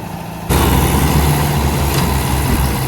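A Mahindra Yuva 575 4x4 tractor carrying paddy is sunk and stuck. Its heavy diesel engine bursts in abruptly after a brief quiet and strains in a loud, close, sustained roar.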